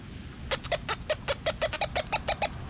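XP Deus metal detector speaker sounding over a buried copper coin in a field: a quick series of about a dozen short, bright beeping tones over faint background hiss, fairly soft and evenly paced.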